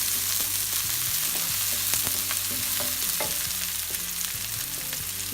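Vegetables with pepper sautéing for pasta in a hot pan, a dense continuous sizzle with stirring scrapes and light taps throughout, close and loud, no voices.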